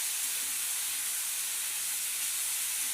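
Peanuts and potato frying together in hot oil, a dense, even, hissing sizzle heard close and steady without pauses or voices.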